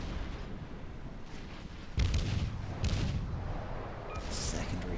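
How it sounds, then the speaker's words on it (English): Battleship salvo in the naval game World of Warships, with Kongo-class battleships trading fire, a few muffled booms and rumbling blasts over a constant low background of distant gunfire, fairly quiet overall. "Our Congo puts out a beautiful salvo."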